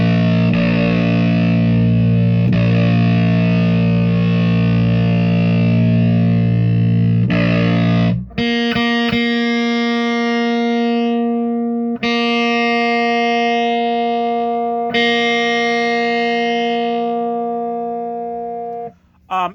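Electric guitar played through a Russian Triangle muff fuzz pedal with its mid control being swept, giving thick, sustained fuzzy chords and notes that ring out loud and alone, restruck every few seconds.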